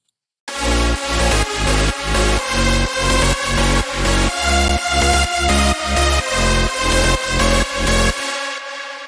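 Bright, full synth chords strike in a steady, even rhythm, each one swelling and decaying before the next. The playing ends abruptly.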